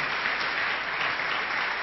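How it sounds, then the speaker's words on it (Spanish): A church congregation claps steadily and densely throughout, a sustained wash of applause with no break and no talk over it. "Le damos un fuerte aplauso al Señor."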